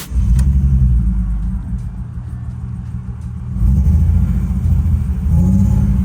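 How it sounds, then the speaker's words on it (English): A supercharged BMW engine with a savage misfire runs rough and uneven, hesitant to rev and struggling to idle, a loud close low rumble that swells and sags throughout with no voices. "it's very hesitant to rev. Not wanting to idle. And then yeah, it's obviously got a savage misfire as well."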